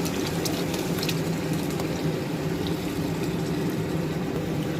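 Thickened milk poured into a pan of frying carrots sets off a steady, even bubbling and sizzling that holds at a moderate level throughout, close and without speech.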